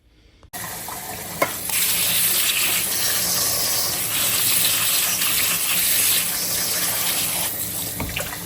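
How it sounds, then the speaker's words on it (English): Running water from a tap steadily rinses fresh moringa leaves in a cooking pot, a continuous near gush with a few small splashes, alone without talk. "I put it in a cauldron and I wash it with water"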